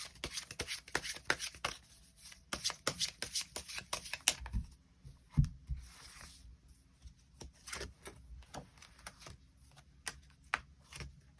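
Tarot cards are shuffled and handled at close range, giving irregular bursts of crisp flicking and slapping with short pauses between, and no talking.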